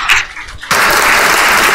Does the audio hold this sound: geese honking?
no